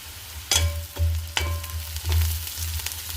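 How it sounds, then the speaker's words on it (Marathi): Onion sautés in a pan with a soft, steady sizzle and a low stove hum, broken by a few spatula taps and stirs, heard up close without any voices. "कांदा लाल होईस्तोवर आपल्याला परतायचा"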